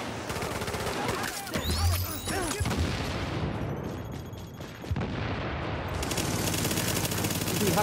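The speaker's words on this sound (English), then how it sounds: "Why you use machine gun?" Rapid machine gun fire and explosive booms in the video game Tomato Team: Rogue Chronicles, dense and continuous bursts with a quieter stretch midway before the shooting resumes.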